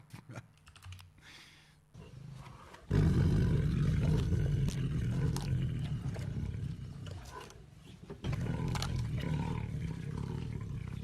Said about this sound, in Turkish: V8 motor sesi çıkaran kaplan